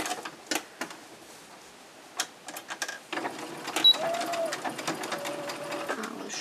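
A sewing machine stitches along the seam line of a cloth pad in short bursts, with quieter gaps between runs of fast mechanical clatter close by.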